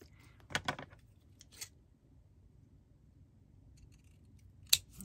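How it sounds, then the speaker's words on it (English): Scissors cut small card triangles in half: a few quiet, crisp snips spaced apart, with a rustle and click of paper between them in an otherwise quiet room. "The other 2 we're going to cut in half and make rectangles."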